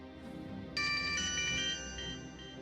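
An incoming-call ringtone on a phone, a bright electronic melodic ring that starts abruptly over a dim background hum and sounds close and clear, with no speech.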